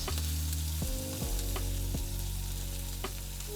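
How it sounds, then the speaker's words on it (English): Potatoes sizzle loudly in a hot pan in a close, continuous frying hiss, with several sharp clacks and stirring bumps and no talking. "It is now time to add our potatoes."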